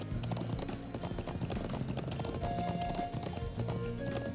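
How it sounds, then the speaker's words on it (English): Horse hooves clip-clop at a steady pace in a video game, rhythmic and fairly quiet under layered background music. "Oh, sorry, horsey."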